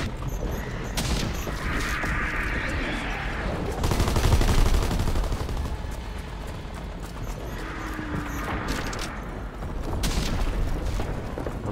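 Sustained automatic gunfire in Call of Duty WWII Zombies as a player shoots down a hostile zeppelin, a loud dense rattle of rapid shots running throughout with heavier bursts and booming swells.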